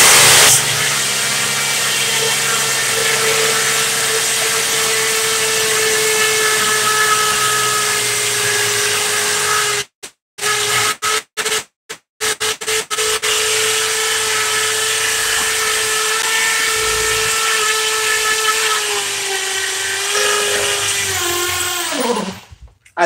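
An SDS rotary hammer drill bores loudly and steadily into the ground, then hits a rock; it stutters and cuts out in several short bursts, runs on again, and winds down at the end.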